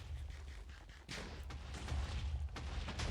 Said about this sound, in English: I think they're like shooting each other right now.